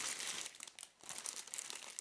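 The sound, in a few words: clear plastic bag crinkling while unpacking a kettle base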